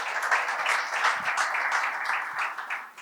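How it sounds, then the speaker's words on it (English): An audience claps for Molifi as he comes to the stage at a Sasol masterclass, a brief, moderately loud burst of many hands that fluctuates slightly, with no talk over it. "let's give Molifi a round of applause"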